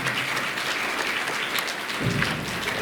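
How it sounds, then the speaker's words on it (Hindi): An audience at a Shrimad Bhagavat Katha religious gathering claps loudly and continuously, a dense, even wash of applause that swells slightly near the end. "आप लोग के लिए और जोर से ताली बजाएगा, जितना जोर से बजा सकते हैं"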